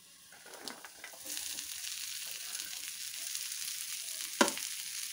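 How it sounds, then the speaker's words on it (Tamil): Onion frying in a pan for Kerala prawn roast makes a soft, steady sizzle, with a few stirring scrapes and one brief sharper crackle near the end. "இதையும் நல்லா வணக்கணும்."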